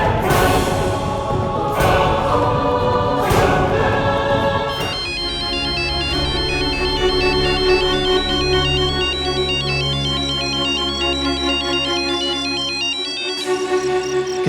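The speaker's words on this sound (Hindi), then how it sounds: "किसका फोन है?" A mobile phone ringtone plays loud and close, opening with a few strong rhythmic hits and then settling into a repeating electronic melody over a sustained tone, without any voices.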